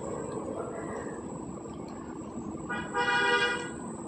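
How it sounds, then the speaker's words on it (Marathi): A vehicle passing outside on the road gives a short horn honk near the end, over a low steady rumble of traffic heard from indoors. "गाडी गेली."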